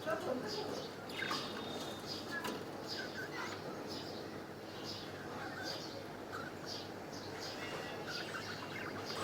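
Lutino budgerigars and small birds in a colony chatter with rapid, repeated high chirps that pulse steadily over a soft background hiss, no clear talking.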